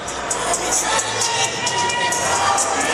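A home crowd fills a high school basketball gym during a Rams game on Robinson Road, a loud continuous roar of cheering and shouting with scattered higher voices throughout.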